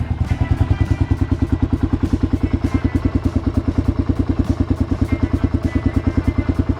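A 1990 Kawasaki KLR650 motorcycle engine runs at a steady idle nearby, giving a loud, even, rapid thumping pulse that continues without a break.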